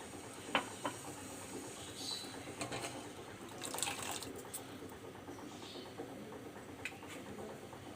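Milk pours into tea simmering in a pot, a soft, continuous liquid trickle with a few small splashes and clinks near the start, fairly quiet and close.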